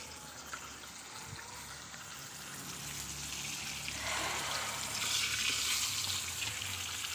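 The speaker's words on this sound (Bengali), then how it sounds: "এইদিকে মাছের জন্য মশলাপাতি পেঁয়াজ আগে থেকে তেলের মধ্যে ভেজে নিচ্ছি" Onions and spices frying in hot oil in a pan for a loitta fish curry, a steady close sizzle that swells louder toward the end, with no one talking over it.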